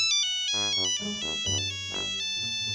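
A classic Nokia ringtone chimes from an old phone taped to a badminton racket as a makeshift spirit detector, a bright bouncing run of electronic notes playing clearly and continuously without talk.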